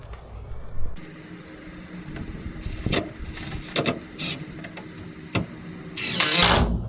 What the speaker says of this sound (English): I'm gonna screw them in.